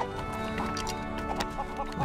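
Chickens cluck continuously in a farm area of the LEGO Worlds video game, several close, busy clucks layered over steady background game sound.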